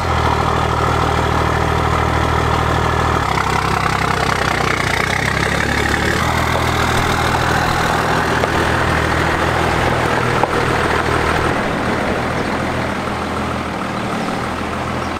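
A truck engine runs loud and steady inside a shop, a continuous low rumble with a slight change in tone partway through, as if settling from start-up into idle, with no talking over it.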